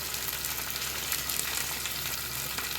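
Coriander and curry leaves drop into hot tempering oil for chatka dal, giving a steady, close sizzle and crackle that runs unbroken and alone, with no voices.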